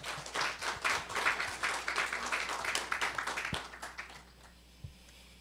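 At an energy forum on natural gas, a seated audience claps to welcome the next presenter. The individual claps are distinct, the applause swells early, thins out and stops after about four seconds, and a single thump follows.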